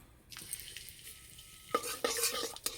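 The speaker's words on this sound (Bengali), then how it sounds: "কড়াইয়ে আর একটু তেল দেব, ফোড়নে দেব গোটা গরম মশলা।" Whole garam masala hits hot oil in a kadai with a sudden sizzle that settles into a soft crackle, then stirring scrapes and clinks of a spoon against the pan sound close by.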